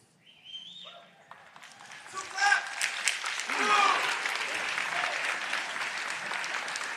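An audience in a room claps together during a talk, starting quiet with a few scattered sounds and building into a dense, sustained wash of clapping that holds steady to the end.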